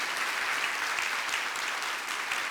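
Loud, sustained applause fills a church family meeting, steady crowd clapping from start to finish with no break.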